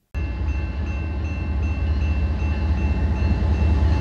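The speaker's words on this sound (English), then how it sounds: "Trains rolling through the middle of town is nothing new in Pitt Meadows." Trains roll through a town crossing in Pitt Meadows, a loud, steady rumble of rail cars that begins abruptly and holds constant throughout, up close with no talk.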